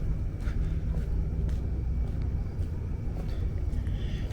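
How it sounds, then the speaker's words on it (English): Distant low roar of traffic on both sides of the Verrazano Bridge, about a mile away, heard from a quiet Brooklyn street in Dyker Heights at 4 AM: a steady, faint rumble that stays even throughout with no distinct passing vehicles. "If you hear that low roar of traffic, that is the traffic on both sides of the Verrazano Bridge"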